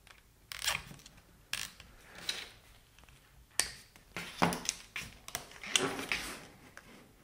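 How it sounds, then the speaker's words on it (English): Cable ties being ratcheted tight on a Wabco air suspension compressor for Range Rover, BMW and Land Rover, several short close zipping clicks in separate bursts with handling noise between. "So next we're going to fit the cable ties we cut off earlier."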